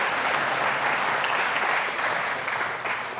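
Applause at a community awards ceremony, a full, continuous roar of clapping from a large audience, loud and even from start to finish.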